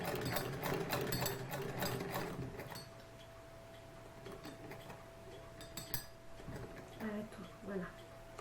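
An antique 1908 sewing machine stitching fabric, a fast mechanical clatter of needle and gears for a few seconds, then slower intermittent clicks while people talk.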